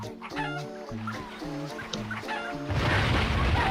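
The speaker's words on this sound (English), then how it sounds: "Just gotta chase these chickens into the nitro" Chickens in the Crash Twinsanity video game cluck in a quick, rhythmic run of clucks, followed by a burst of louder noise at the end.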